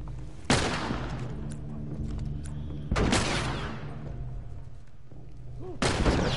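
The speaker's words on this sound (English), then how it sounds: "Is that a shotgun?" Shotgun blasts in The Last of Us, three loud separate shots spaced a few seconds apart, each a sharp crack with a ringing tail over low background ambience.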